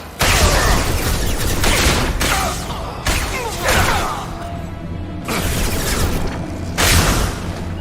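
Gunfire and explosions in Mass Effect 2, a series of loud booming bursts and whooshing blasts that arrive in several separate waves over a continuous roar of combat.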